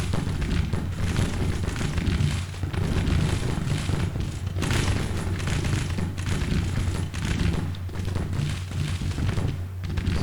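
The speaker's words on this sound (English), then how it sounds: "So all those guys are getting howitzer fire and long-range skirm fire." Howitzer shelling and long-range skirmisher fire in the Grand Tactician: Civil War game, Missouri campaign: a dense, continuous low rumble with scattered distant cracks and thuds running throughout, steady and moderately loud.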